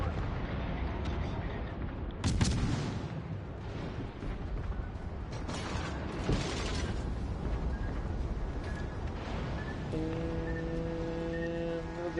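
Naval guns fire from a warship in a video game: a deep booming shot rises above a constant low engine rumble, with a second fainter blast later and mechanical creaks, and no one speaks.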